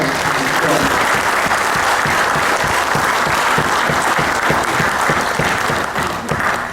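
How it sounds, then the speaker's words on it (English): Loud, continuous applause from an audience after a talk on vaccinations for expats in Thailand, dense clapping filling the room with some crowd murmur underneath. "Huge round of applause for Dr."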